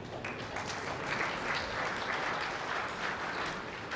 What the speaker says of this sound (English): The applause from the crowd